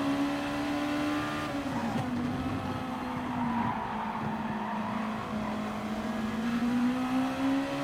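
Gr.2 race cars in GT Sport at Red Bull Ring drone continuously with a steady engine tone that dips and climbs as revs shift, and a brief tire squeal cuts in early, with no talking.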